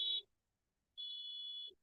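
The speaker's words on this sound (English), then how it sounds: "someone's car alarm's going off." A car alarm sounds outdoors with two steady high electronic beeps, a short one and then a longer one, separated by a pause, fairly faint and alone.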